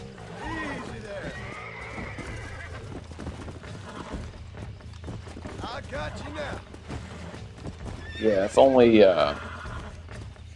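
A horse in the Western video game Red Dead Redemption whinnies loudly near the end, after steady clip-clop of hooves and in-game ambience, while a player talks throughout.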